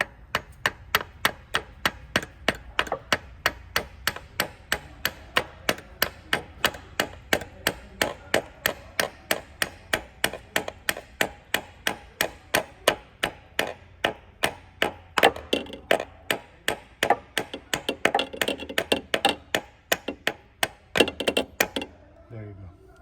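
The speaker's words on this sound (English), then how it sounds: "I'm gonna have to tap it lightly to get it in." A tight cam solenoid on a Lexus LS460 engine is tapped lightly into place with a long, steady run of evenly spaced small knocks, a couple each second, that turn slightly quicker and more ragged near the end.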